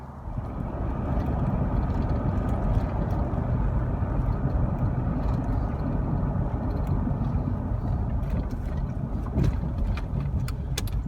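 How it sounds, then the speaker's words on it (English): A van is test driven after its tire was refitted, with a continuous low rumbling road and engine drone and some wind buffeting from inside the moving vehicle, no talking. "Now I'm going to go for a little test drive and see how this works."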